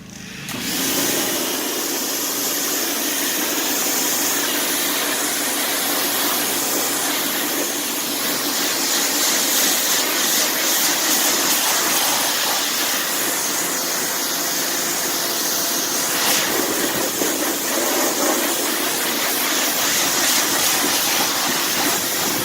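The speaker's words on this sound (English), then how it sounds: "let's do a quick rinse down" A water hose rinses a jelly-like fallout remover off a car's paint in one continuous, loud, close spray hiss that runs unbroken throughout.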